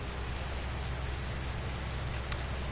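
Steady rain falling in Farming Simulator 19, a dense, even hiss of drops that stays constant and close from start to finish with no voices.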